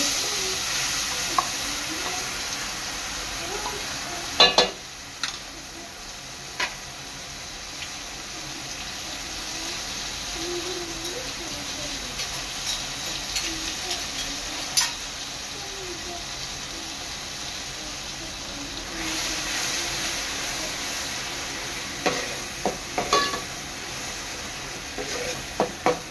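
Bay leaf and finely ground masala hit hot oil in a pan for an Agri-Koli crab curry, giving a steady soft sizzle and crackle throughout, with a few sharp clicks and clatters of utensils rising above it.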